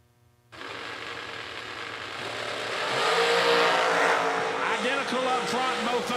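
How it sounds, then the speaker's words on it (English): Drag race cars launch side by side down the strip at a Laris Motorsports Insurance $250K event, engines roaring up loud and sustained after a sudden start, with a commentator talking over the noise. "Oh, wonderful drag race."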